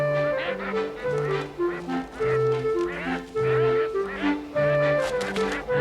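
Cartoon geese honk and quack in a lively, overlapping chorus of short nasal calls, close and fairly loud, with brief gaps between bursts.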